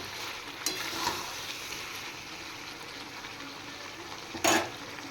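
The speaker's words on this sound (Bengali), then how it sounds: "এবার মাংস ভালো করে কষিয়ে নেব।" Chicken pieces with green chillies sautéing in a pan, a soft steady sizzle with a couple of sharp scraping clinks from a spoon stirring, close and fairly quiet with no talk.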